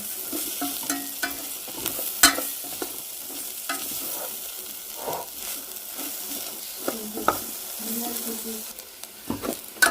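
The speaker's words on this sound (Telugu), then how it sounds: "మన మెయిన్ ఇంగ్రీడియంట్ ఓట్స్ మొత్తాన్ని ఫ్రై చేసుకోవాలి బాగా" Oats frying in a pan with frequent stirring, a steady close sizzle broken by irregular scraping and clinking strokes, no voices.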